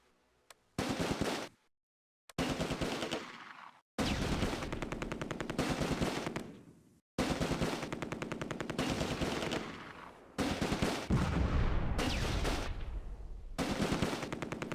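Sustained bursts of automatic gunfire from a Browning Automatic Rifle and a Sherman tank's guns in a Close Combat World War II battle near Son during Operation Market Garden, with loud rapid volleys separated by short pauses.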